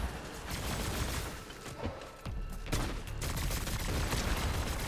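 Gunfire in a battle-royale shooter video game, a steady dense stream of shots and bursts lasting throughout, fairly loud with a few heavier impacts and no talking.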